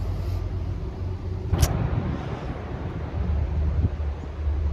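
A vehicle approaching on the remote Dalton Highway, heard as a low, steady road rumble mixed with gusty wind noise, with no voices present.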